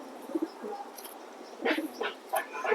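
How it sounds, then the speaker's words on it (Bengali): Racing pigeons cooing in a loft, low soft coos mixed with brief rustles and scattered bird calls, moderately close and fairly quiet. "তো অনেক ভালো একটা কবুতর দেখেন"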